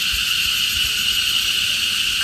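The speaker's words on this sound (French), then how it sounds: "le bruit tout autour de nous, assourdissant, ce sont des cigales" Deafening cicadas near Hué, Vietnam fill the air with a dense, continuous high-pitched buzz that holds steady and loud throughout, with no pauses and no voices.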